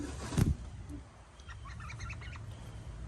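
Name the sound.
calls of the speaker's new aviary birds, emu-like chicks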